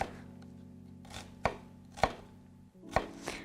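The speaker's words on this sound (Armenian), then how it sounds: "ամբողջությամբ չենք կտրի, պարզապես այսպես դանակով ճեղքեր կանենք" A knife cutting slits into an eggplant on a board, four distinct sharp chops spaced about half a second to a second apart, close and clear over a low background hum.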